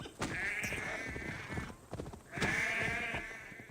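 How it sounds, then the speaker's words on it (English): Sheep bleating in the Assassin's Creed Valhalla video game, two drawn-out wavering bleats at close range with a short pause between them and no talking. "I walk over your sheep."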